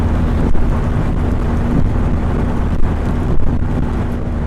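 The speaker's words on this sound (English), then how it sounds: "Hail is pelting me at the moment." Hail pelting a rider on a BMW R1250GSA motorcycle during a winter storm on a long highway ride, heard as a steady, dense rush of wind and impacts with a low engine drone underneath and a few sharper hits.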